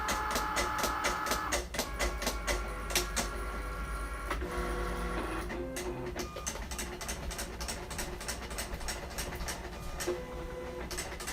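Cricut Maker cutting machine cutting a box, with busy motor whirs, repeated clicks and stepping buzzes as the carriage moves back and forth, heard close and alone.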